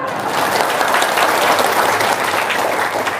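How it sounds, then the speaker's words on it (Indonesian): Steady applause from a live audience at a comedy-style talk show, dense and continuous throughout with no pauses. "Tepuk tangan dong"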